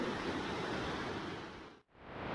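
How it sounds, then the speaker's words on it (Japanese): A river swollen with snowmelt rushes in a dense, continuous roar of broadband water noise that briefly dips and then returns. "雪解けで川の水量が増水してるんで"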